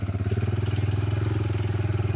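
Motorcycle on a solo ride through a muddy mountain valley track, the engine chugging in a steady pulsing thump at low revs, close and continuous.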